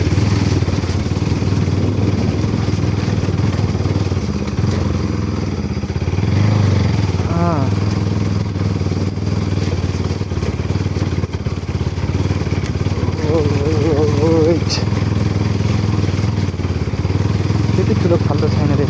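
A motorcycle rides an off-road track toward Dhading, its engine a loud, constant drone with rattles and thumps over the rough ground, while a rider talks over the noise.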